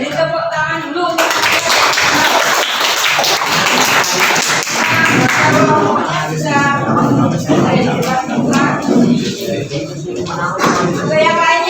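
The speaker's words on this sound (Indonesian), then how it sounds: "Kita beri tepuk tangan dulu untuk" Classroom students clap for a presenting group, a burst of applause in the opening seconds that fades into scattered claps, shuffling and chatter.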